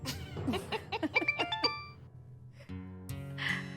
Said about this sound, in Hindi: ये देख, आ गया मेरी बहू का मैसेज।